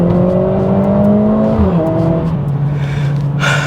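The M139 turbocharged engine of a Mercedes-AMG A45 S revs up and then eases down, a loud, close, continuous drone whose pitch slides lower partway through.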